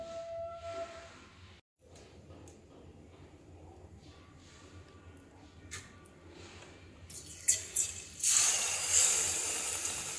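Bread pakoras stuffed with cheese and coated in besan batter go into hot oil for an evening snack, a steady low sizzle and hiss building into a louder, brighter bubbling burst near the end.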